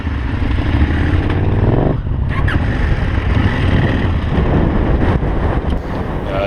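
Engine of a 2018 KTM 790 Adventure R, a parallel twin with a 270-degree crank, running steadily and loudly for several seconds, with wind buffeting the microphone and no talk.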